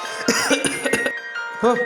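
A few short coughs mixed with throat-clearing sounds, close and fairly loud, with voiced bursts between them.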